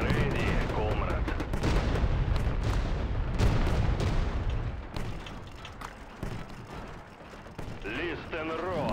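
Soviet cannons fire in a WWW RTS real-time strategy video game, dense booming volleys and rumbling explosions over a continuous bed of battle noise, with game voice lines heard now and then.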